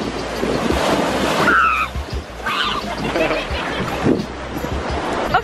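Ocean waves wash onto the beach at Makapuu Point, Oahu, Hawaii, a loud steady surf roar mixed with wind buffeting the microphone, while voices talk briefly over it.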